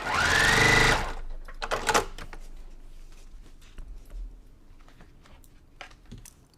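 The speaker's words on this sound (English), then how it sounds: "you'll notice when I went through the sewing machine" A sewing machine stitching a quilt block runs in one fast, close, whirring burst for about a second, then stops, leaving faint handling clicks and rustles.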